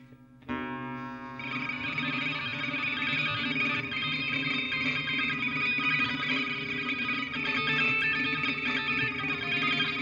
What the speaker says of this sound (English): you can use multiple alligator clips for stranger noises